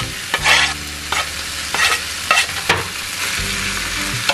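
Potatoes and onions stirred and sautéed in oil in a pan, a spatula scraping through them in several distinct strokes over a steady close sizzle, with no voices.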